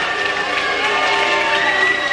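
Wrestling arena crowd at a ladder match reacting to Jared Steele, a steady roar of many voices, cheers and jeers blended into continuous near noise throughout.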